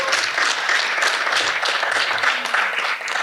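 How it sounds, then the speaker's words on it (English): An audience at a talk gives the speaker a round of applause, dense and continuous clapping that stays loud and even for the whole stretch. "We give a round of applause"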